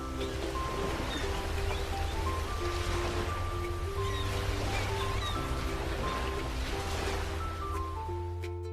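Waves wash steadily onto the shore of a Greek seaside in a children's cartoon, a soft continuous surf hiss running beneath a bright, tuneful music score.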